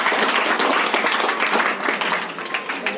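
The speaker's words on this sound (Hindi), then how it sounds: "तो एक बार तालियां बजा दीजिए अपने साथियों के लिए।" Audience applause at a cultural event for fellow participants after a dance, a crowd clapping in a full, steady rush that holds at strength and then tapers slightly toward the end.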